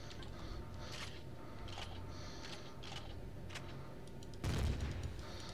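A plasma weapon in Empyrion: Galactic Survival fires a series of quiet, spaced zapping shots, ending in a louder, heavier blast near the end.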